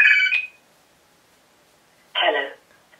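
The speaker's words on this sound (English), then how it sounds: "The phone's ringing!" A household telephone rings in two short bursts separated by silence, the first a bright electronic trill and the second a louder, harsher ring cut off partway, both close and heard alone.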